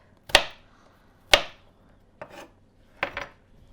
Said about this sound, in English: I'm just going to give him a rough little chop.